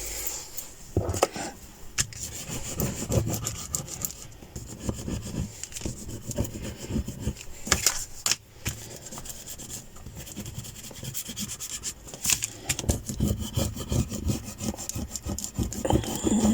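A book cover is burnished down by hand: steady back-and-forth rubbing and scraping strokes, close and fairly loud, with sharp taps scattered throughout.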